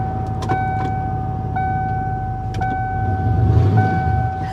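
Power windows on a Ford F-150 pickup, a steady electric motor whine under a car interior hum, with a few short clicks and tonal chimes as the windows start and stop, no talking.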